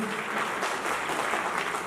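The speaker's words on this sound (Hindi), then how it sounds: "तालियां बजा सकते हैं, बिल्कुल सही" Applause from a quiz audience, a steady wash of many hands clapping at an even, moderate level with no clear break.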